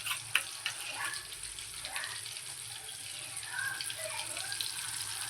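Cumin seeds dropped into hot oil for Mumbai-style pav bhaji, a steady close sizzle and crackle with faint clinks, moderately loud and continuous.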